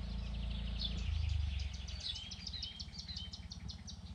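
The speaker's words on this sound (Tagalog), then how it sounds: "Yang tawagan ni huni ng ibon." Birds chirp in quick, repeated high notes over a steady low hum, fairly faint and continuous throughout.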